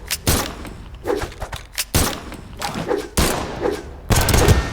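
Rapid gunfire from the Brawlhalla fighting game: several loud bursts of clustered shots and thumps in quick succession over a few seconds, with no speech heard.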